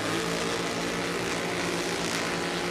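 Nitro and pro-mod drag racing cars revving at the starting line of a national event in Norwalk, a loud continuous engine roar sustained without a break, no voices.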